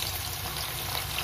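Onion pakoras coated in cornflour or rice flour frying in hot oil make a dense, steady, close sizzle that fills the short stretch without a break, with no talk.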